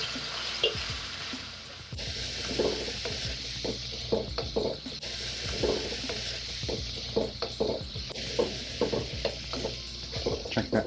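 Shrimp stir-fried in a hot pan with seasoning sauce and chili garlic salt, steady sizzling under repeated scraping and clattering strokes of a utensil, close and fairly loud, with no voices.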